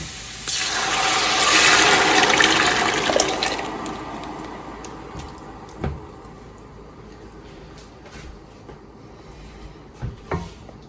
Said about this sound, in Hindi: अब जो है वो मैं सॉस डाल दूंगी इसके अंदर जो मैंने रखी हुई है।